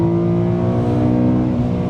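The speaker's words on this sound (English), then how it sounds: "I mean, listen to this engine, unbelievable." A BMW E92 M3 engine revs hard on a race track at Lime Rock, a loud, steady, high-pitched howl sustained close up without a break.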